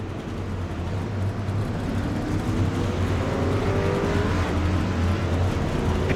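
Racing trucks roar at Talladega in a racing video game, a loud continuous engine drone with rising pitch as the pack runs together, no talk over it.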